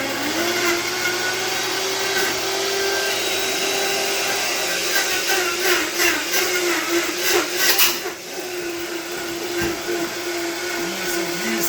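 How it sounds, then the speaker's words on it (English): A kitchen blender purees a bell pepper marinade for chicken with beer, a steady loud motor whir running continuously throughout with slight pitch shifts under the load. "Now I'm gonna cover and blend."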